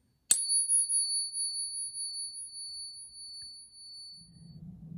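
Pocket Pinger striking a fake coin gives one sharp tap and then a thin, high metallic ring that hangs for several seconds before fading, with a faint low rumble near the end.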